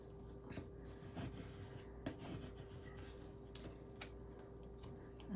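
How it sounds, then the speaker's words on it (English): A scraper rubs transfer tape onto layered paper cardinal pieces, making quiet scratchy strokes and soft taps in an irregular rhythm over a faint steady hum, close and low in volume. "I'm just going to put the transfer tape on top using a scraper."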